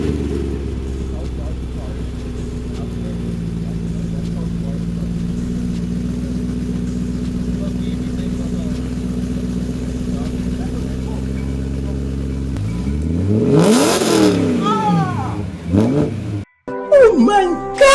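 A BMW E92 M3 with its primary catalytic converters deleted and lowered fires up for the first time, a steady idle drone building into a loud rising rev, followed by excited voices shouting.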